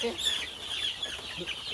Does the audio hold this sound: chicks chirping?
yes